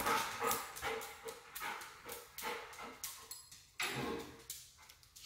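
A service dog whimpers and yips excitedly while exploring a new home, repeated short high whines in an uneven rhythm, fairly close and quiet, with no speech.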